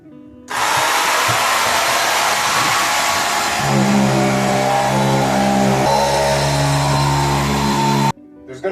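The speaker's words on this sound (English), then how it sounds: "the rest of this actually needs to be sanded" A power sander works over mudded drywall, a loud steady grinding whir that starts abruptly, deepens into a heavier humming drone partway through, then cuts off sharply.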